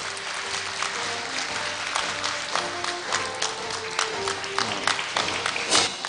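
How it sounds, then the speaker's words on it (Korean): Audience applause at a Korea University graduation ceremony, steady crowd clapping at moderate distance that holds evenly throughout, with occasional sharper individual claps and faint background tones. "여러분 큰 박수 부탁드립니다."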